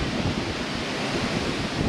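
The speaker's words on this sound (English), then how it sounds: "Really windy today." Strong wind gusts buffet the microphone outdoors beside an old Craftsman riding mower, a steady broadband roar with low rumbling buffets and no voices.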